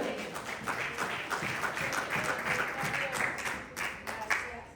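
Church congregation clapping during a sermon, a steady wash of applause heard from within the room, moderately loud and continuous, with faint voices underneath.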